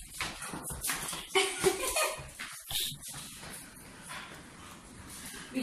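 A dog barks and whimpers in short yips and whines, fairly faint and intermittent against a busy indoor background with no clear speech.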